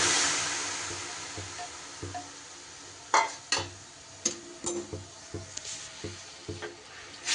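Spinach being stirred in a pan over a soft sizzle, with a series of scattered clicks and scrapes from the utensil against the pan, fairly quiet and with no talking.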